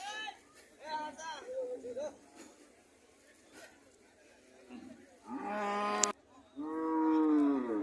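A cow at a rural cattle market in Cumilla moos in a long, loud low call near the end, with people talking nearby and earlier market chatter.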